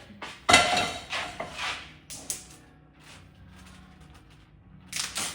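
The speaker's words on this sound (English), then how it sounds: "So the next thing I need to get is a pan or a skillet" A pan or skillet pulled out in a home kitchen, with a loud metallic clank followed by several lighter knocks and rattles of cookware, ending in another clatter.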